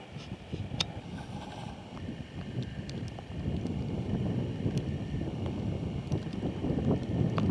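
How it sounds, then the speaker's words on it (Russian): Strong wind and rain buffet an outdoor fishing spot on the Khopyor river, a steady low roaring rumble of gusts against the microphone with faint scattered patter and a few light knocks, with no talk. "Дождик шпарит, ветер свищет."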